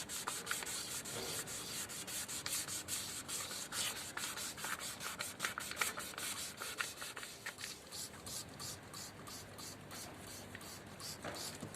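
Rapid, rhythmic scratching of sandpaper rubbing back and forth on a yellowed car headlight, steady and close, continuing throughout.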